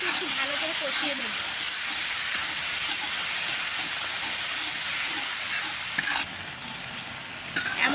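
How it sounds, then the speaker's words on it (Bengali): Dried chepa shutki fish and gourd greens stir-fried in a pan with cumin powder, giving a steady broadband sizzle and frying hiss with occasional stirring scrapes that continues throughout and drops slightly near the end. "আমি এখন এগুলো কিন্তু একটু ভালো করে কষিয়ে নেব।"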